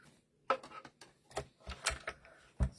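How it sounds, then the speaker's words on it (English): Paper pieces being cut for a handmade card folio give a few sharp snips and rustles at an uneven pace, close and moderately soft. "So I'm going to go ahead and cut these 2"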